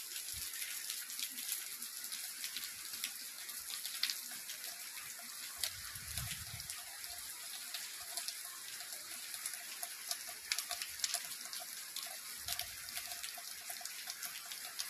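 Heavy rain falls steadily, a dense even hiss of drops with occasional louder patters and a faint low rumble, no speech.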